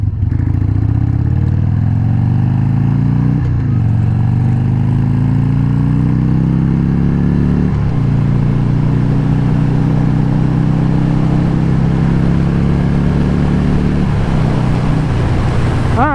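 Harley-Davidson 883 motorcycle running on stale fuel while being ridden on old tires, its engine droning steadily with a few brief shifts in pitch as revs change, loud and close throughout.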